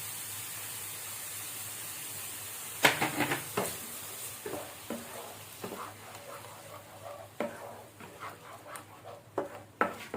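Tomato paste hits a hot pan for a jackfruit-seed curry, giving a steady hiss with scattered crackles and sharper pops, close and moderately loud, with no voices.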